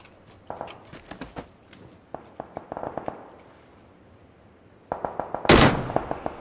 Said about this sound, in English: I fired one round and it hit him and killed him.